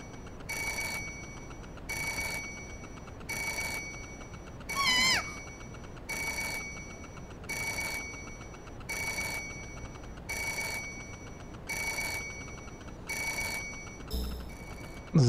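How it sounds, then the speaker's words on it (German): A telephone rings in the video game Parasite Eve 2, regular bursts of electronic trilling repeating about every 1.3 seconds, with a brief different chime midway and a short sound at the end. "God damn it, dieses Telefon."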